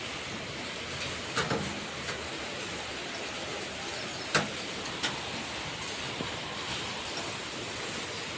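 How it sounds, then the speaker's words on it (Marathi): Steady broadband hiss of heavy rain falling continuously, with a few sharp louder drips or knocks standing out, no voices. "इकडे पाऊस चालू आहे रात्रीपासून खूप जोरात पाऊस चालू आहे"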